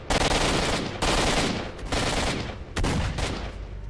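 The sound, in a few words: gunfire in S.T.A.L.K.E.R.: Shadow of Chornobyl video game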